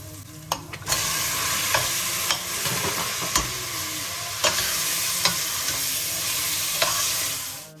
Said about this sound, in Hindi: अब मैं इसके अंदर जो है कीमा डालूँगी